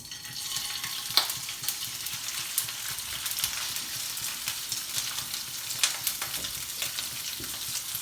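Shrimp frying in extra virgin olive oil with a piece of garlic, producing a steady close sizzle and crackle with scattered sharp pops and light stirring clicks throughout.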